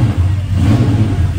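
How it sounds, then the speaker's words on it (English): A Superlite SLC V10 car's exhaust, valves open, revs briefly, loud, throaty, deep and rumbling up close, with no talking. "That's with the valves open on the exhaust."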